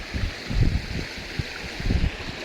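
A clear, cool stream about fifty metres wide flows beside land near Kong Ik Dok waterfall in Chaom, Kaeng Khoi, Saraburi, Thailand, giving a steady close wash of water with low gurgling surges.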